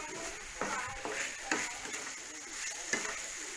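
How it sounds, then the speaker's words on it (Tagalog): Chicken stir-fried with black pepper and lemongrass in a pan, a steady sizzle broken by several distinct scraping stirs of a utensil, close and moderately loud, with no talking. "Katong black pepper stir fry."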